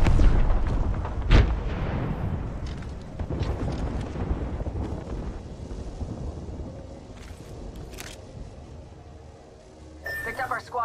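A frag grenade detonating in a military shooter game, a sharp loud blast early on followed by rumbling gunfire and battle noise, with voices and radio callouts over the action.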